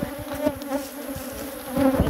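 Bees swarm around a beehive, a loud, close, continuous buzzing drone. Individual insects swell and fade as they pass near, and no one speaks.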